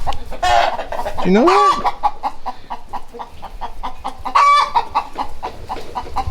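A hen clucks loudly and nearby after laying an egg, giving a run of rising, squawking cackles that repeat. Someone speaks briefly over the farmyard sound.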